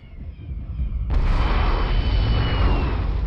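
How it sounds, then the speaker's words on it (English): Bombs dropping and exploding in the Star Wars: Warlords game, a sudden loud blast that swells into a sustained roaring rumble. "they're even dropping some bombs on us"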